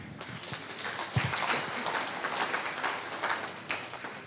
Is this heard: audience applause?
yes